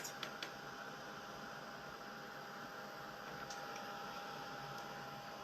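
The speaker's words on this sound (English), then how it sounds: "I love this dryer because it doesn't blow my cutouts all over the place" Steady, fairly loud blowing hum of a hot craft dryer aimed at paper cutouts, running continuously with a few faint clicks and rustles on top and no talking.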